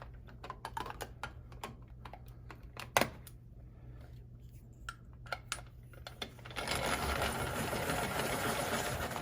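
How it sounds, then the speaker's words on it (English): Wooden dowel sharpened in a pencil sharpener: scattered light clicks and knocks at first, then a steady, louder grinding rasp that continues to the end. "pencil sharpener"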